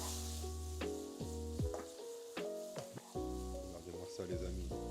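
Beef and mushrooms sizzling in a pan for Korean noodles, a steady close frying hiss throughout, with tonal whistles and clinks from stirring scattered across it.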